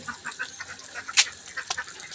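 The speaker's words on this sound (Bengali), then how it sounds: "হাঁস এই দেখতে পাবেন" Ducks quack faintly and intermittently at a moderate distance, a few scattered calls over soft background noise.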